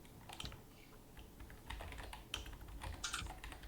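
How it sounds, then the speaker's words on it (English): Rapid, fairly quiet clicking keystrokes on a mechanical computer keyboard, typed in uneven bursts with brief pauses and no talking. "I would search them up right now, but my keyboard is mechanical. Don't want to destroy people's ears."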